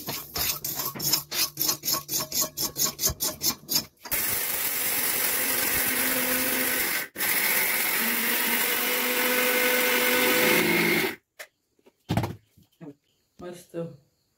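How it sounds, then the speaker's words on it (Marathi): A mixer grinder grinding cooled roasted ingredients: a run of short, loud pulsed bursts, then long continuous high-pitched whirring with a brief pause, ending in clatter and knocks from the jar. "या थंड झाल्यावर मिक्सरात लावून घेते"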